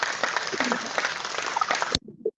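An audience at a rally supporting Biafra liberation claps loudly and steadily for about two seconds, then the applause cuts off abruptly, leaving brief faint sounds.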